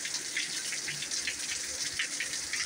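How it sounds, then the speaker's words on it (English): Heavy rain pours steadily during Hurricane Helene in South Carolina, a dense continuous hiss and splash of water with no let-up, close and loud throughout. "And it is absolutely pouring."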